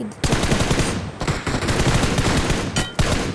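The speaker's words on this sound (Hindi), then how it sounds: "ओए होए होए होए हेडशॉट भाई, पीक शॉट मारा पकड़ के उसे मैंने।" Rapid automatic gunfire from the video game PUBG Mobile, loud sustained bursts of close shots with short gaps, dense and continuous over a few seconds.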